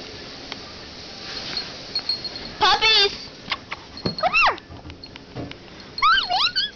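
Puppies let out short, high-pitched whines and whimpers in scattered bursts, mixed with excited human voices talking and calling nearby.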